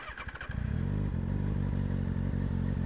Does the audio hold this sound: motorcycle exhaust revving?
yes